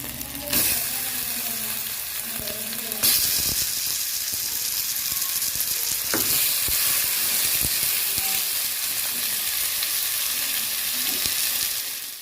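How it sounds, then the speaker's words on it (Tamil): Onions fried with chili powder and salt sizzle steadily in a clay pot, a continuous hiss with scraping stirs and clinks of the spoon against the pan throughout. "வெங்காயம் நல்லா வதங்கிட்டு இப்போ எனக்கு தூள் உப்பு எல்லாம் போட்டு பிரட்டி ஆச்சுது"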